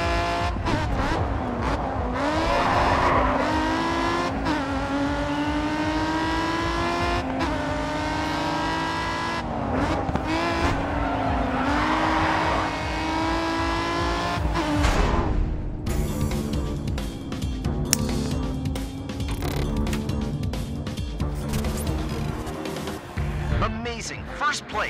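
A race car in the Grid 2 video game roars with a rising and falling engine whine, shifting gears, followed by rapid scraping and tire squeal, while a person talks over it.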